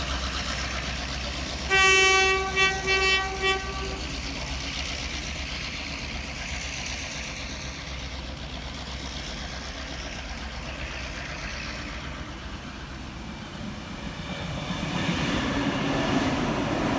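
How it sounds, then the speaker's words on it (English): Australian locomotive 42-107 assists a train in New South Wales, with a steady rumbling roll of wagons throughout, a brief loud two-tone horn blast early on, and the passing noise swelling again near the end. "42-107 is seen assisting the train."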